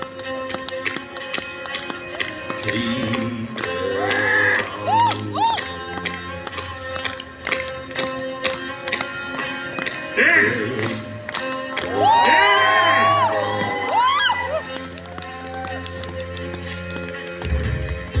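At an outdoor kettlebell strength show at a festival in Kyiv, a crowd applauds and cheers over music with a steady beat, with voices and whoops rising in waves, loud and lively throughout.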